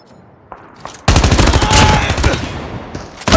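Automatic gunfire in the mobile shooter Call of Duty Mobile: a loud, dense burst of rapid shots lasting about two seconds, preceded by a few isolated clicks and followed by another sharp report.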